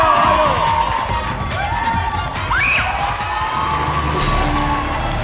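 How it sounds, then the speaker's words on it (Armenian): Loud studio audience cheering and clapping on an Armenian Minute To Win It game show, a dense steady crowd roar with whoops and shouts rising above it throughout. "ծափերով, այո։"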